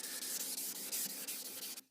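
Rhythmic back-and-forth strokes of abrasive paper rubbing an oiled Damascus steel Bowie knife blade, steady and close, with brief pauses between passes and no talk.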